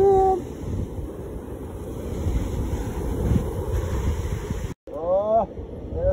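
Sea waves wash against the shore at a seaside spot in Çeşme, a continuous rushing surf mixed with heavy wind buffeting, broken by a short dropout and a brief high cry near the end.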